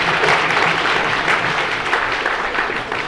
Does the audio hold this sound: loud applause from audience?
yes